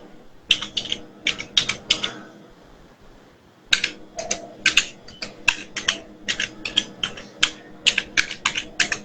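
Fast typing on a computer keyboard with quick bursts of close, crisp key clicks, a brief pause, then steady rhythmic clatter resuming.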